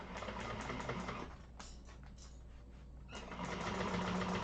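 A sewing machine runs a second row of stitching on a Makayla bag, a steady mechanical whir with a brief slowdown in the middle, faint and without talk.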